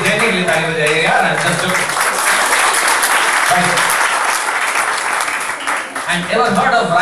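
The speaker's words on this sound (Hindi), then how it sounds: "जयती के लिए ताली बजाइए यार।" A seminar audience in a university hall bursts into loud, dense clapping for a student, continuous across the clip, with a voice talking over it at the start and end.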